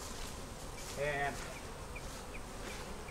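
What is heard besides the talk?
honey bees buzzing around a beehive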